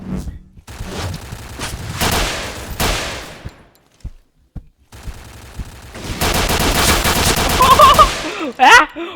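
Heavy video game gun firing in long automatic bursts, loud and close, with short pauses between volleys and a few sharp electronic effects near the end.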